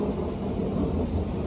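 Light to moderate rain hissing steadily on surfaces with a deep rumble of thunder rolling underneath, a brief continuous stretch of storm sound with no voices.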